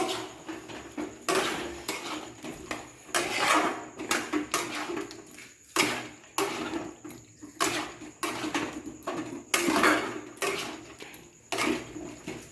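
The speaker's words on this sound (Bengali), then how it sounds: "আলুটা দিয়ে ভালো করে কষে নেবো" Potatoes being stir-fried in a pan with sour yogurt, with repeated scraping and sputtering bursts in an uneven rhythm, close and fairly loud, with no voices.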